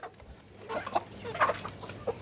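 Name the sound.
chicken clucking on a home farm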